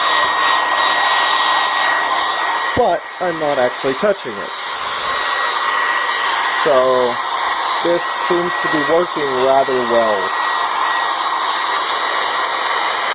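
A hairdryer held close to a sheet of paper blows loudly and steadily with a constant whirring roar, while a person talks over it at intervals.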